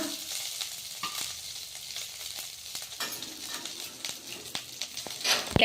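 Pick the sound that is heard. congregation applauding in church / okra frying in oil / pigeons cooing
okra frying in oil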